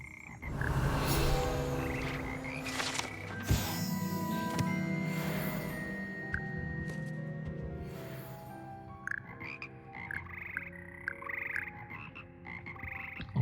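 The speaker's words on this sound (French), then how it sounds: "C'est des crapauds." Toads in the Hogwarts Legacy video game croak in a dense, overlapping chorus of repeated throaty calls, steady throughout and thinning toward the end.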